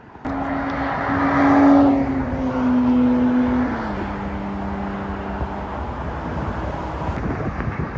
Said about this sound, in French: je pense pas qu'elle est d'origine cette 428, elle sonne vachement fort